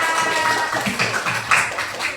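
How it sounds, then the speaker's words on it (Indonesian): Schoolchildren in a classroom applauding a classmate, a busy, uneven patter of many hands clapping at once, close and moderately loud, with a few stronger swells and faint voices among it. "Beri tepuk tangan semuanya."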